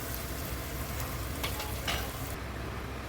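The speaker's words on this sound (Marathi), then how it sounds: "कांदा व्यवस्थित परतून घेते तेलामध्ये." Chopped onion frying in oil over a wood-fired chulha, a steady broadband sizzle filling the whole stretch with a few brighter crackles, close and continuous, no voices.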